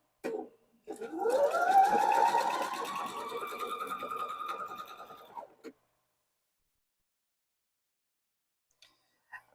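A sewing machine stitches nested fabric seams, its motor whirring up into a rising whine that holds for about five seconds, then stops abruptly, followed by near silence and a few faint clicks.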